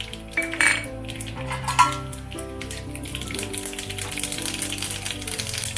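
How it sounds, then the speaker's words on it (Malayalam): Mustard seeds spluttering in hot coconut oil, heard as quick scattered pops and crackles over a metallic clatter of a pan and utensil, close and fairly busy throughout. "കടുക് ചേർത്ത് കൊടുക്കാം"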